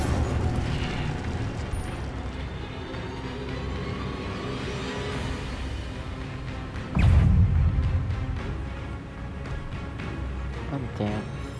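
Incendio fire spell blasts cast over and over in Hogwarts Legacy, a steady rumbling roar amid busy combat effects, with one heavier booming burst standing out partway through.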